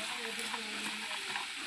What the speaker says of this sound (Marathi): छान परतलं की त्यामध्ये छोले टाकून घेऊ. छान मिक्स करून घेऊ.